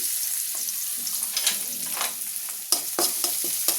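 Sliced onions sizzle in a hot pan of oil at the start of a braised meat dish, a dense close hiss broken by scraping stirs and a few sharper clatters toward the end, with no talking.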